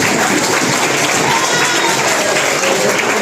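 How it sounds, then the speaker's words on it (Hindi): A class of schoolchildren gives dense, loud, sustained applause indoors, the clapping continuous and close throughout. "इनके लिए जोरदार ताली होना चाहिए"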